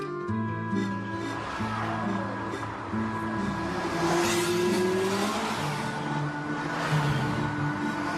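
Cars on a road in Umbria, Italy, driving past one after another, engines rising and falling as they go by, fairly close and loud.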